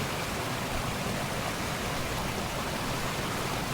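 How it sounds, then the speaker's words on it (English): Steady, broadband rush of the Blanco River flowing, a continuous close wash of water with no pauses, heard on its own without voices. "This is the Blanco River."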